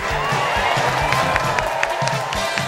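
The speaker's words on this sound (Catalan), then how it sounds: "Encert, un aplaudiment, sisplau, per la Neus." Live audience at a comedy podcast recording breaks into applause and cheering, dense clapping and whoops under a murmur of voices, loud and sustained throughout.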